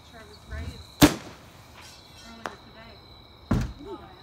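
A Look Spider Sky consumer aerial firework by Top Gun Fireworks gives several sharp pops and cracks, one loud burst followed by smaller scattered bangs, with faint background sounds between them.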